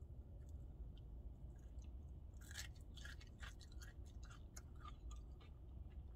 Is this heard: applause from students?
no